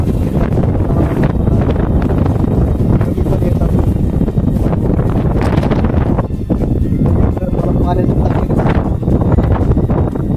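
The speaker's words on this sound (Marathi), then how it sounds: "वारं खूप आहे" Strong wind at a hill fort batters the microphone in a continuous, loud low roar that gusts and buffets throughout, with no other sound standing out.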